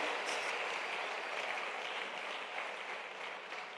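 A church congregation at a Sunday service claps together for God, a dense sustained wash of applause at moderate volume, steady throughout with no voices on top.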